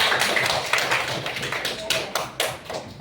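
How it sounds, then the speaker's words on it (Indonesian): A classroom of children clapping together, with a handful of distinct claps and slaps sounding irregularly and fairly close over a noisy room. "Mari kita beri tepuk tangan yang meriah buat kita semua"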